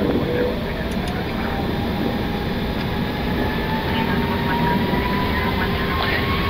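Jet engines of an Airbus A330-200 roar steadily from inside the cockpit during takeoff, a loud continuous rumble with rising whine tones, while crew voices are faintly audible beneath.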